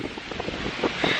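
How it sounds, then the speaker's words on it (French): Strong wind in a London courtyard among old buildings, buffeting the microphone in a continuous rough roar with gusty surges. "Il y a un vent horrible"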